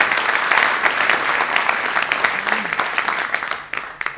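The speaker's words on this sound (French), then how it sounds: "On peut l'applaudir." Crowd applause at a political campaign rally for La Rochelle municipal elections, a full roar of clapping that thins and fades toward the end, with a brief voice faintly heard partway through.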